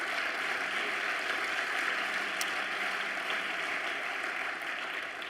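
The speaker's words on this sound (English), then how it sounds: "And thirdly, you can applaud." Audience applause at a large congress hall event: a steady, dense wash of many hands clapping, even in loudness and sustained across the whole stretch, with no talk over it.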